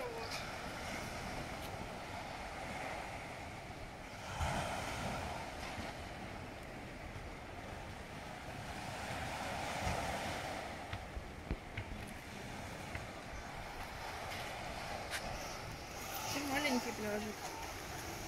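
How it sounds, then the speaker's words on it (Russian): Big sea waves roll into a rocky beach cove in Mallorca, a continuous distant surf wash with swells rising every few seconds, mixed with wind noise and people talking over it. "Волны какие здоровые"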